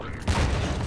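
A short, loud burst from a grenade explosion in Half-Life 2 co-op play, a sharp crack followed by a dense rumbling blast that fills the brief moment.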